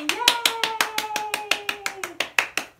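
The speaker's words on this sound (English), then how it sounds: "Can you clap for me?" Clapping at a public library storytime comes as a rapid run of about fifteen crisp, evenly spaced claps, with a sustained voice cheering alongside them.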